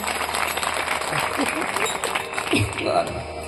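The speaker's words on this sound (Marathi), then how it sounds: "एकदा जोरदार टाळ्या वाजवा." Loud audience applause at a Marathi religious discourse, a sustained crowd of clapping hands at even strength with a few voices and shouts rising through it.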